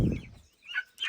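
Chickens inside a chicken tractor give a few short, soft clucks close by, with brief pauses between calls and quiet around them.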